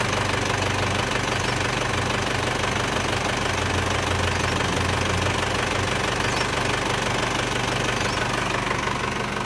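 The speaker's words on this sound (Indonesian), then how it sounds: "Halus dan rata mesin ini suaranya lur." An Isuzu Panther car engine, freshly rebuilt, idles steadily and evenly, a continuous low hum with a faint rhythmic knock, close up and unbroken throughout.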